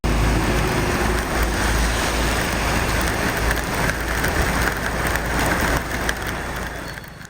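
Heavy downpour in Cuddalore, a dense, steady roar of rain pounding surfaces close by, continuous and loud throughout with no voices.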